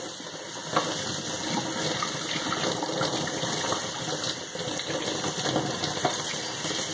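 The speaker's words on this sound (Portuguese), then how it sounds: "Vou lavar ele aqui pra tirar todo o resto de substrato que tiver." Running tap water rinses old substrate from the roots of a Miltonia spectabilis orchid. A steady, close gush of water with small splashy fluctuations runs throughout, and no one speaks.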